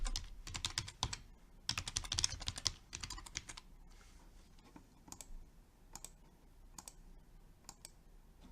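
A password is typed on a computer keyboard, a close, quiet burst of rapid key clicks followed by a few slower, isolated taps.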